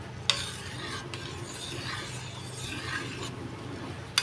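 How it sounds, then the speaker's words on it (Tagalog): A spoon scrapes and stirs a sticky rice mixture for puto maya in a metal salad bowl. The soft, quiet rasping and scraping runs continuously, with a couple of sharp clinks at the start and end. "Halo-haloin natin yan guys."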